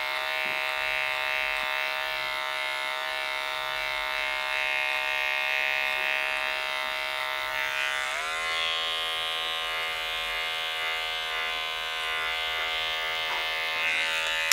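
An electric hair clipper buzzes continuously and close while cutting a skin fade, a steady high whine whose pitch dips slightly partway through as it bites into hair, with no talking.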